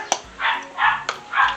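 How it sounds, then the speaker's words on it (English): Small puppies yip and whimper in the back of a kitchen, three short high-pitched bursts coming from a distance with no talking over them. "if you hear some little yip yip yipping, it's our puppies in the back"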